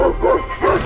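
An army K9 unit dog gives a few quick, close barks, two short bursts and then a third.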